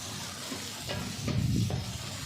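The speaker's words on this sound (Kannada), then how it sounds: "ಸ್ವಲ್ಪ ಒಂದು 2 ನಿಮಿಷನಾದರೂ ಚೆನ್ನಾಗಿ ಫ್ರೈ ಮಾಡಬೇಕು" Green chillies and Byadgi dried chillies fry in a pan with a close, continuous sizzle, briefly swelling louder as they are stirred and scraped around.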